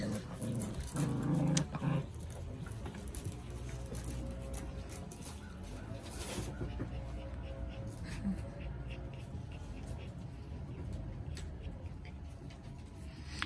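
A puppy and another dog growl and whimper playfully at close range, with scuffling and panting, while a person talks quietly underneath.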